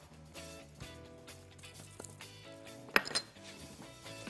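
Plate and utensils clinking faintly as flour and starch are put into a dish and mixed for coating lemon-marinated chicken, one sharp clink standing out over soft background kitchen sounds.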